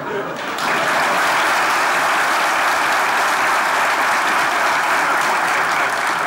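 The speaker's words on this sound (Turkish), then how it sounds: "Alkış sesleri geliyor." A comedy-show theater audience bursts into sustained, loud applause that sweeps in within the first second and holds steady and dense, a packed crowd clapping continuously throughout.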